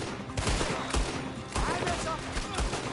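Gunfire in the video game Red Dead Redemption 2, a rapid burst of several sharp, loud shots in quick succession over a short stretch.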